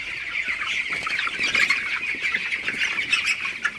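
Broiler chickens at night around their waterers give off a dense, continuous chorus of squawks and chirps from many birds, close and steady with no one speaking.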